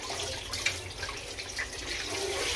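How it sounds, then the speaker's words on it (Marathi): Water runs steadily from a small tap, a soft continuous splashing hiss with faint gurgles throughout, heard close and alone. "आता मी पाणी चालू करते आणि बघा छान पाणी येतं"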